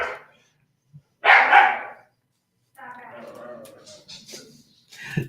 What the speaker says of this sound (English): Dogs keep going at it.